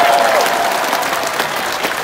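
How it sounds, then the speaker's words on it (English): Applause from a crowd at a street demonstration against the Myanmar military coup, dense steady clapping that stays loud across the whole stretch with no voices over it. "Give them a huge round of applause."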